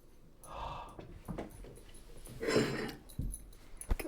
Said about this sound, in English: This is my dog, chat.